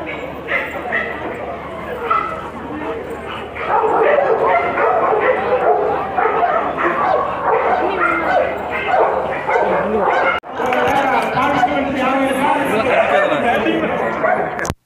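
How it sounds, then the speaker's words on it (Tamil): An eighteen-month-old Labrador barks at a dog show, sharp repeated barks and yips close by, mixed with crowd chatter and someone talking throughout, with a brief break near the end. "லேப் வகையைச் சேர்ந்த இந்த நாய்க்குட்டிக்கு கிட்டத்தட்ட ஒன்றரை வயது ஆகிறது"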